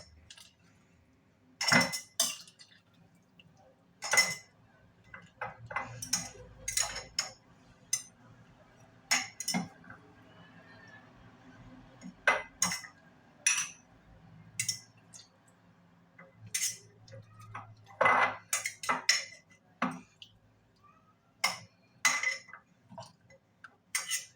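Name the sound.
glass jars being filled and handled with pickled fish peppers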